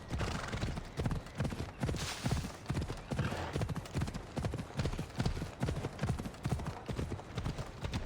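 Horse hooves clip-clop steadily in Assassin's Creed Odyssey, close and loud, a quick regular rhythm of hoofbeats over game ambience, with a brief whinny partway through.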